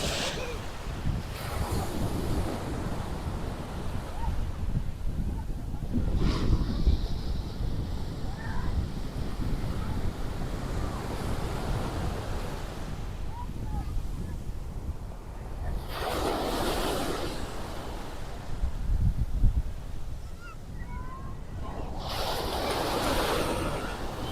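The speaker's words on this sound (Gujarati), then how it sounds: "તમને થોડાક આ સમુદ્રના મોજા છે એનો અવાજ પણ અહીંયા સંભળાવું છું" Sea waves roll onto the seashore at Koliyak near the Nishkalank Mahadev temple, a steady wash of surf with several louder breaking surges, mixed with wind buffeting the microphone throughout.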